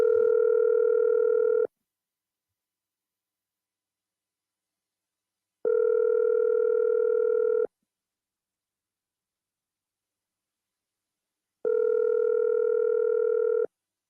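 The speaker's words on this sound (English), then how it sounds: "I gotta get somebody to pick up the phone, Tommy." Telephone ringback tone on an unanswered call during a Sunday talk radio broadcast: three steady two-second rings spaced about four seconds apart, clear and alone with no talking.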